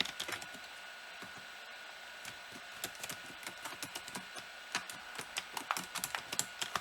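Typing a store web address on a computer keyboard: rapid, irregular clicking keystrokes, fairly close and moderately quiet, with no talking.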